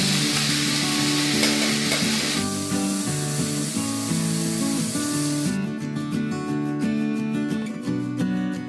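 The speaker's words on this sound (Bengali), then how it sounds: "তারপর সর্ষের তেল দিয়ে রসুন ও লঙ্কা কুচি দিয়ে সজনে শাকটাকে ভালো করে ভেজে" Drumstick greens with chopped garlic and chili sizzle steadily in mustard oil in a pan, a loud, continuous frying hiss with music playing underneath.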